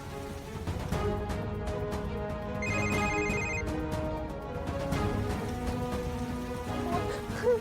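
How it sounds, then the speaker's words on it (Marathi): A phone rings and goes unanswered in a Marathi TV drama scene, a short electronic ringtone trill sounding briefly over a busy background of music and patter. "डॅडीना फोन लागतोय पण ते फोन उचलत नाही"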